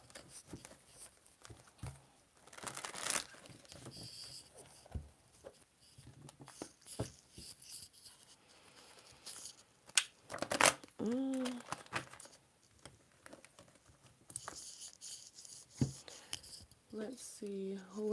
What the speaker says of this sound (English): I feel guided to continue to shuffle the cards